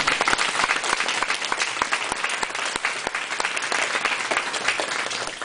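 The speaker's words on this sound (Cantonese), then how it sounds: "俾啲掌聲多謝佢哋。" An audience at a church gathering applauds steadily, a dense wash of many hands clapping at close range that holds its level for several seconds.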